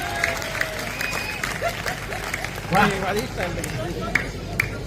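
Audience applause at a Hindi poetry recital (kavi sammelan) fills the space as a steady wash of clapping and crowd noise, with a voice speaking over it throughout.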